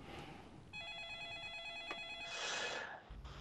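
A telephone ringing while a call is placed, a steady electronic ring tone of several even pulses at moderate level, followed by a short burst of noise.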